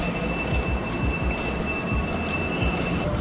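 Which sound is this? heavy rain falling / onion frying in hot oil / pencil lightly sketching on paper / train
train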